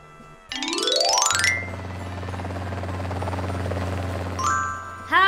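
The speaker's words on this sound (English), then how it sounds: "Helicopter." A helicopter sound effect in a children's transport vocabulary lesson, a steady low rotor drone with rising whine at the start and chimes at the edges, fairly loud and alone without speech.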